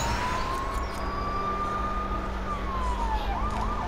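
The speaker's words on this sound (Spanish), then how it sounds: "Mejor paro la sirena, porque si no va a reventar los oídos si lo tenéis a tope." A police-style emergency siren from the Lego City Undercover video game wails steadily, its tone sweeping slowly up and down over a constant engine drone, loud and continuous throughout.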